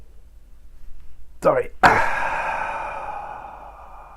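A man yawns aloud: a drawn-out, breathy vocal stretch followed by a long, fading exhale, close to the microphone in a quiet room, with a brief spoken word just before it.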